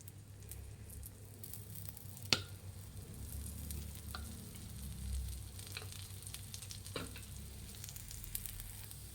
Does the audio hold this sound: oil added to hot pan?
yes